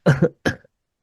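A man gives two short, rough coughs close by, the second one quieter, then silence.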